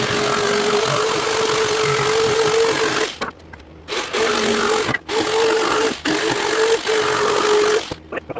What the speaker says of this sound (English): Gonna jigsaw this out and maybe it'll work.